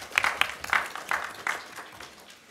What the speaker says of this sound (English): Interesting that you applaud